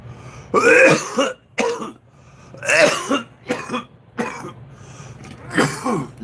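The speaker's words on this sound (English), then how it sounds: "I'm coughing in your face" A person coughs and clears their throat up close in several harsh, repeated bursts separated by short pauses.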